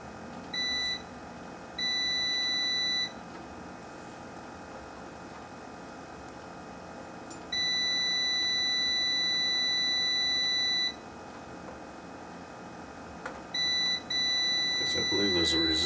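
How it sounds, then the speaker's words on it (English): A multimeter's continuity beeper sounds in several steady tones of varying length, separated by quiet gaps, close and clear while testing a vintage Nakamichi amplifier. "or use the beeper here"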